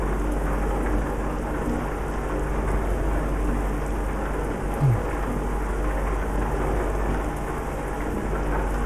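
A thunderstorm in Euro Truck Simulator 2 multiplayer, with heavy, continuous rain hissing throughout and low thunder rolling beneath it. A short, louder thump comes about halfway through, and nobody speaks.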